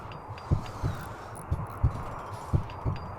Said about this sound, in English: There's a heartbeat noise.